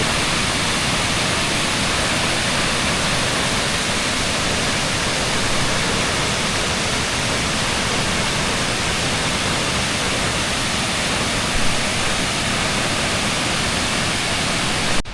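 Steady roaring rush of a waterfall at a reservoir near Aberdeen, Hong Kong, on a rainy day, loud and continuous throughout with no other sounds.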